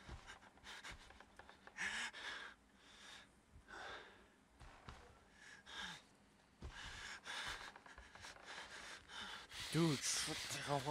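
A player character in the Outlast horror game pants in close, uneven bursts of breathing, broken by brief pauses and a louder gasp near the end.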